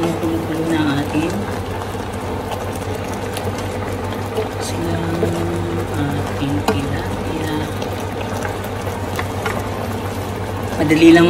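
A coconut milk stew with tilapia simmers and bubbles steadily with soft liquid burbling throughout, while a person talks over it and utensils clink now and then.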